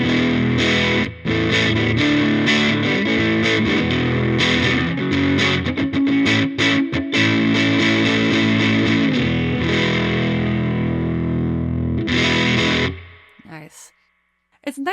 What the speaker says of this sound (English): Now let's dirty it up with that second Volga. Again, I really like the blended sound when using it more as an overdrive